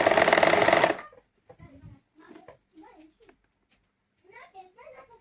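A sewing machine stitches saree blouse fabric in a loud, dense whir lasting about a second before it stops. Quiet, scattered voices follow.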